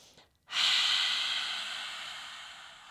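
A single long, deep yoga breath drawn in through the nose, a close, airy hiss that begins abruptly after a brief quiet and slowly fades over a couple of seconds.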